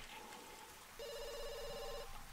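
A telephone rings in The Sims 2, a single close electronic ring lasting about a second, set over a faint, quiet background.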